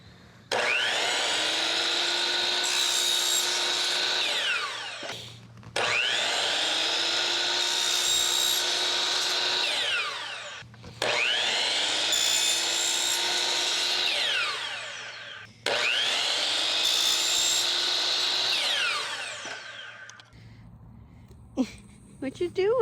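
A saw cuts a wooden L bracket braced against a sacrificial piece in four loud, sustained passes. Each cut whines and rasps for several seconds, with short gaps between them, then quieter handling sounds at the end.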